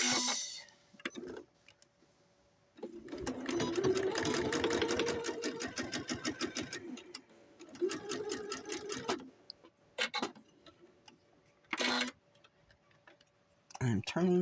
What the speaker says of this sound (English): we don't sew over pins with our expensive machines